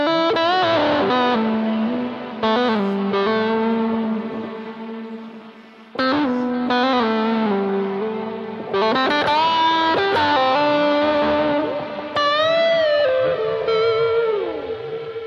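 An electric guitar played through a BOSS GT-1000 Core's AC30 and Plexi amp models with gain rolled fully off rings out clean, sustained notes and chords in separate phrases with brief pauses between them.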